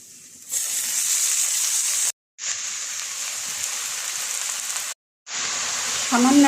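Bottle gourd greens fry in a hot pan with a strong, steady sizzle, broken twice by brief silent gaps before the hiss resumes, and a faint voice enters at the end.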